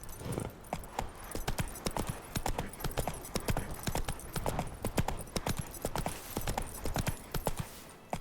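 Roach the horse trotting in The Witcher 3, a steady run of sharp clip-clop hoofbeats close by, lasting throughout with a faint voice briefly over them.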